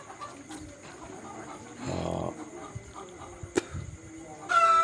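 Fawmi breed hens cluck softly in the distance against a quiet poultry farm background, with a brief burst of louder activity and a sharp knock near the end.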